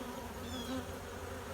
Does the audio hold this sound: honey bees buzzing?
yes